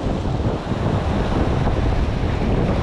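Strong wind buffeting at the sea shore while fishing from the bank, a loud, continuous low roar of gusts against the microphone blended with the wash of surf.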